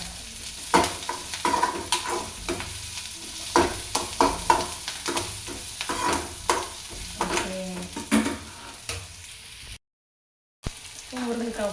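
Onions sauté in oil in a pan for a drumstick (murungaikkai) poriyal, giving a soft continuous sizzle. Frequent scraping stir strokes run over it, and a brief dropout comes near the end.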